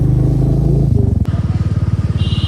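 A motorcycle close by, engine idling then chugging in a rapid pulsing rhythm after a sharp click, loud and alone with no talk.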